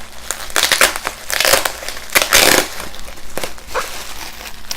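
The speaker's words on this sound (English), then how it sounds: "So there it is, nicely wrapped in bubble wrap." Bubble wrap and tape being pulled off a package to unwrap an item, giving loud, close crinkling and crackling bursts in irregular rustling waves.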